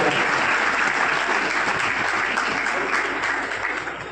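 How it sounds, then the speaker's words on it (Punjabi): Audience applause for Shami Gale at a Punjabi Christian gathering, a dense, steady burst of clapping from a crowd that holds for about four seconds and then begins to fade. "ਸ਼ਮੀ ਗੇਲ ਜੀ ਜ਼ੋਰਦਾਰ ਤਾੜੀਆਂ ਦੇ ਨਾਲ ਜਰਾ"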